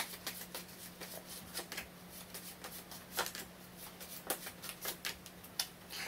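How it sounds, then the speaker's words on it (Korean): Tarot cards are shuffled and drawn, giving a steady run of crisp, close riffling and flicking snaps at a fairly even rhythm, with no talking. "조언 카드도 한 번씩 더 뽑아보겠습니다"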